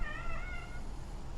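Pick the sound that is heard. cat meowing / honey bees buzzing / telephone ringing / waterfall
cat meowing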